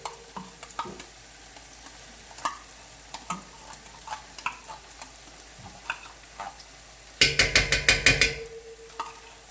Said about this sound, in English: Now, I'll let my tomato paste cook down a little.